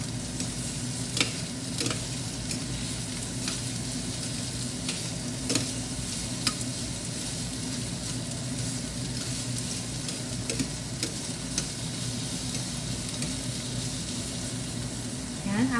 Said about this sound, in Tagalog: ilagay naman natin itong mga binalot natin na beef, tapos ito yung enoki